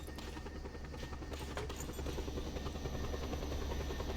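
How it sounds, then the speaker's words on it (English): Supply helicopter in the Just Cause video game, a steady whirring rotor drone with a low thumping pulse, heard at moderate distance and fairly quiet, unbroken for the whole stretch with no voices. "I hear there's helicopter. But that's only supply helicopter."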